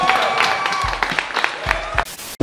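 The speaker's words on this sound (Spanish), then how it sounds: "¡Los aplausos, por favor!" A small audience at a stand-up comedy performance claps for a few seconds, scattered and close, mixed with talk and handling noise before it cuts off.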